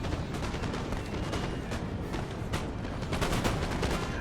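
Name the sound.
musket gunfire in video game Napoleon Total War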